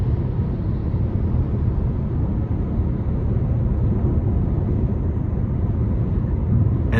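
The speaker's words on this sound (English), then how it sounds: "I can hear the road noise a little bit, wind noise, barely." Steady low road rumble with faint wind noise inside the cabin of a 2024 Chevy Malibu with a 1.5 turbo four-cylinder and CVT, a continuous even drone with no talk.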